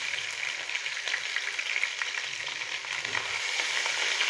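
Chopped onion, garlic and ginger fry steadily in hot oil in a pan, giving a continuous crackling sizzle with faint stirring scrapes; close and fairly even, with no talking.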